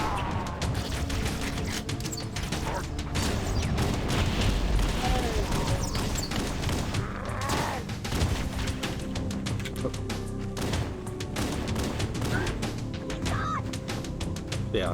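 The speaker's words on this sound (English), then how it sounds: "I'm gonna toss some frags into the group." Frag grenade explosions and gunfire in the video game Halo, a dense ongoing clatter of shots and booming bursts that runs loud and steady throughout the whole stretch.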